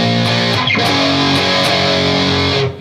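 Heavily distorted electric guitar strums a riff, dense and loud throughout, with a few brief pick accents before ringing out and fading at the end.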